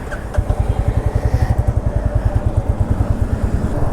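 A Royal Enfield Classic 350 single-cylinder motorcycle with 45,000 km, freshly serviced, thumps loudly and close in a fast, even pulse as it is ridden.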